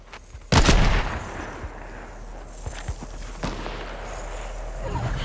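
A loud gunshot blast in Fortnite, followed by scattered fainter shots and footsteps under a steady background hum.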